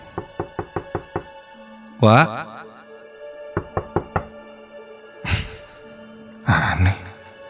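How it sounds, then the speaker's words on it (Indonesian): Knocking on a bathroom door in three groups of five or six sharp, evenly spaced raps, near and clear, separated by a sigh-like breath and other vocal sounds. "Aku pun mengetuk pintu kamar mandi itu."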